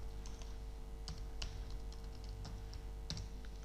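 Keys tapped on a computer keyboard, scattered light clicks at an uneven pace over a constant low electrical hum.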